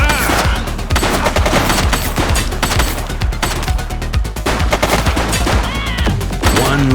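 Heavy, continuous gunfire fills a police action video game, with rapid overlapping shots and automatic bursts, loud and dense throughout.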